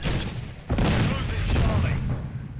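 Booming blasts from sticky Jak Thumper grenades in a shooter video game, a sharp explosion followed by rumbling, crackling aftermath, loud and close with a voice talking over it.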